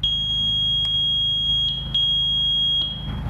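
A steady, shrill beep from a magneto timing tester at the timing point rings close and loud, with a few brief clicks, while a Morris MM74E magneto is set on a Harley-Davidson Shovelhead.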